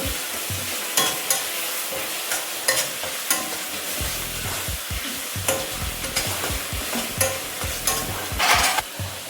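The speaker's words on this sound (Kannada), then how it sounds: "ನೆಕ್ಸ್ಟು ಚೆನ್ನಾಗಿ ಸ್ವಲ್ಪ ಫ್ರೈ ಮಾಡ್ಕೊಳ್ಳೋಣ" Spices and turmeric sizzle in a hot pan for chicken biryani, steady frying hiss broken by frequent scraping stirs and clanks of the spoon, close and fairly loud, with no speech.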